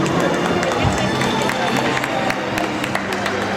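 Audience applause at a senior-category standard ballroom dance competition, a dense steady wash of clapping that fills the space evenly throughout, with a busy crowd murmur blended into it.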